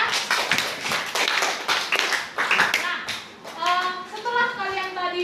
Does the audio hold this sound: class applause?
yes